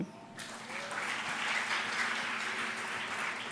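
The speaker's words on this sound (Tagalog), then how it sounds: "May palakpak." A church congregation bursts into applause during a Sunday worship service, with a dense wash of clapping that starts abruptly and holds steady, moderately loud and close.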